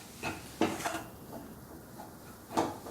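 Idli masala gets stirred in a cooking pan, with a spoon giving a few soft, quiet scrapes and knocks against the metal at uneven intervals over a faint background and no talk.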